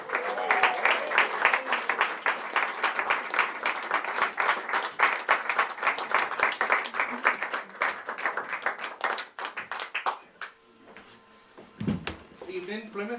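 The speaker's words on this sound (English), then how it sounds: "Start cheering." A comedy-club audience at B-Bar Plymouth applauds and cheers comedian Nathan Herat onto the stage: a dense, sustained wash of clapping and cheering that holds steady for about ten seconds, then thins out and fades.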